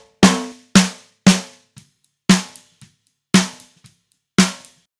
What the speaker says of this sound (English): I'm just scooping out a bunch of mid-range here at 500 Hertz